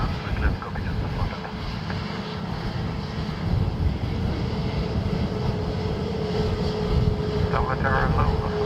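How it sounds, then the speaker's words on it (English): An ATR turboprop airliner lands at Dublin Airport, its steady engine drone loud and continuous throughout, with radio voices talking over it. "So we've an ATR next from Gemstone 41 Donegal."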